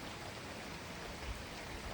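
Heavy rainstorm on a Saturday morning in Canada, a dense, steady wash of downpour hitting surfaces nearby, continuous and loud with no gaps or voices.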